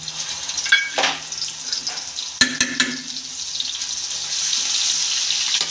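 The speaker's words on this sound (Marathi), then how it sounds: "चांगलं तेला परतून घ्यायचं हे तेलात चांगलं परतून घेतलं" Chili-garlic thecha sautéing in hot oil for a chakvat gargatta bhaji, a steady close hiss rising toward the end, with a few sharp clinks of a spoon against the pan and brief stirring scrapes.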